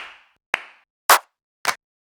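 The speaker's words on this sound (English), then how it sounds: "claps" Sampled hand claps from a drum sample kit, four separate hits with no voices: the first two have soft, drawn-out tails, the last two are short, dry, sharp smacks, evenly spaced and close.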